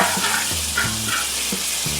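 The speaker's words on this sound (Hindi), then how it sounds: "अब इसमें हम 2 अदद बकरे के पाए डाल देंगे।" Goat trotters frying in hot oil in a pot, giving a steady close sizzle with short bursts of stirring and clatter as the pieces shift.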